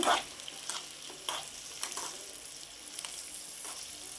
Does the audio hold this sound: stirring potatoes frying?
yes